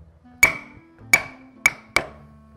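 A mallet striking a square wood chisel while carving, four sharp ringing knocks at uneven intervals, close and distinct with quiet gaps between them.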